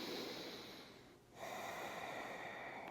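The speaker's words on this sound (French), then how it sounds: "Une respiration ici." A single quiet, airy breath during a slow yoga stretch, soft and close, a long exhale that dips briefly before the breathing noise resumes.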